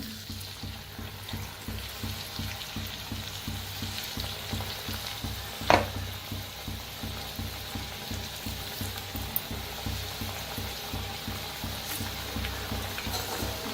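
Chakli frying in hot oil, a steady crackling sizzle with bubbling throughout and a single sharp clatter midway; no one talks.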